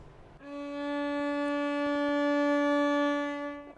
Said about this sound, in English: we move up a note. The next note will be a D,